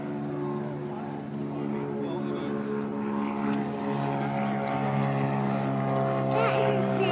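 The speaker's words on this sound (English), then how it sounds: "Here's the airplane." A propeller airplane drones steadily at an airport air show, a continuous humming engine tone swelling slightly louder toward the end while an adult and someone talk nearby.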